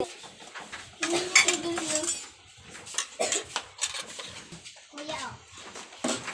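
Plates and cutlery clatter and clink in a home kitchen around dinner time, in short uneven bursts, while people, including a child, talk over them.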